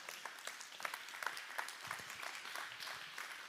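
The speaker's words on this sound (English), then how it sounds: "Give her a round of applause." A crowd applauds to welcome a guest onto a stage at a live show, a sustained mid-level wash of many clapping hands with a few sharper individual claps standing out.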